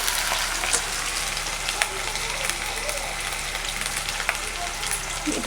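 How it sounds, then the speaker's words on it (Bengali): Small cut potatoes fry in a pan, giving a steady close sizzle with faint crackles and occasional pops, with no speech over it. "আলুগুলোকে আগে ভেজে নেব বেশ একটু ভালো করেই, যাতে আলুটা সেদ্ধ হয়ে যায়।"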